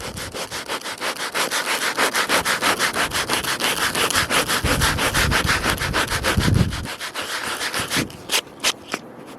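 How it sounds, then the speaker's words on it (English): Regular sandpaper rubs back and forth over a hair-on tanned deer hide, a close, steady rhythmic scraping of even strokes that keeps going for several seconds and then breaks into a few separate swipes at the end. "I'm going to try to correct it with just some regular sandpaper."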